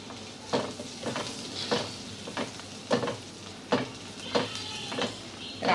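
Cheesy garlic spicy corn frying in a pan, a soft steady sizzle broken every second or so by sharp scraping stirs, close and moderately quiet.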